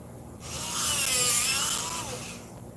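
A colored pencil being sharpened, probably in an electric sharpener: a close, whirring grind that swells and fades over about two seconds.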